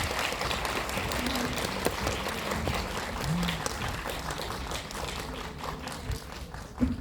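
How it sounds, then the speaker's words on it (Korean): Audience applause for a film director and two actors introduced at a Korean film screening talk, steady dense clapping throughout with a faint voice briefly underneath. "박수 부탁드립니다."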